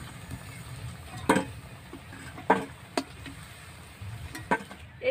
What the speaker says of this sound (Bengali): এইভাবে বাকি মিশ্রণটাকেও ভেজে নেব।